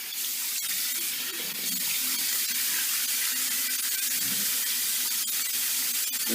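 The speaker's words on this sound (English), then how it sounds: "We're going to rinse with some hot." Hot water runs steadily from a bathroom tap while a face is rinsed after shaving, a continuous close hiss of flowing water with faint splashes and no talking.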